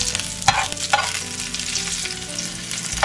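Garlic and ginger fry steadily in a pan, made while cooking balbacua with cow skin. The sizzle is close and continuous, with a few sharp scrapes and clinks as the spoon stirs, and nobody talks.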